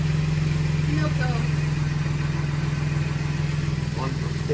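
An LFX V6 engine swapped into a car idles steadily while warming up, a close, loud, even rumble that continues throughout, with faint voices in the background.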